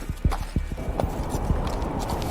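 Cartoon horse hooves clip-clopping in a steady, even rhythm, loud and close, with no other sound over it.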